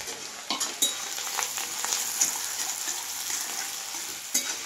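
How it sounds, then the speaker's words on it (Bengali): Onions sizzle in hot oil for a mutton curry, a steady hiss broken by sharp clicks and knocks of a spoon stirring against the pan, heard close with no voices. "এই যে তেলটা গরম হয়ে গেছে, এবারে আমি দেবো পেঁয়াজ। পেঁয়াজটাকে ভালোভাবে আমি লাল লাল করে ভাজব।"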